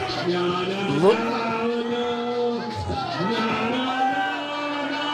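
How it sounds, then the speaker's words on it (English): A wrestling crowd at an independent tag team championship show chanting a song in unison, a sustained melodic mass of voices filling the arena, loud and steady. "Look at the crowd chanting that famous song"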